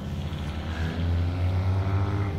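A car engine roars loudly as it takes off nearby, a continuous rising rumble lasting a couple of seconds.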